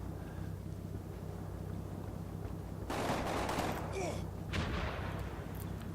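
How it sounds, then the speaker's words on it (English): Gunfire from a Sten gun in the WWII video game Combat Mission: Normandy: a burst of rapid shots rises over a steady engine drone, followed by a second shorter burst. "My infantry squad coming in must have shot him with a Sten gun."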